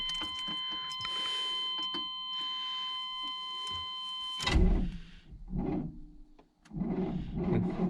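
A 1993 GMC 1500 pickup that sat for ten years chimes with a key-in warning tone, then the starter cranks and the engine catches with a loud roar, dipping briefly before revving up again close by.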